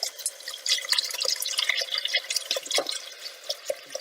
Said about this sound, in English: go ahead and add the rest of your boiling water